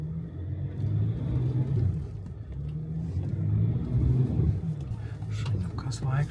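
An off-road Honda CR-V, Porsche Cayenne S or Range Rover TD6 rumbles slowly through a muddy puddle, its engine droning steadily with occasional rising revs under a voice.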